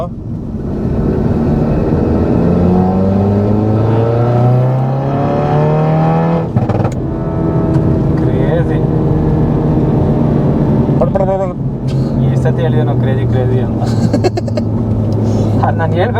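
Maruti Alto engine revving up under acceleration, a loud steady intake howl that climbs in pitch, drops and climbs again through the gears, with people talking over it inside the car.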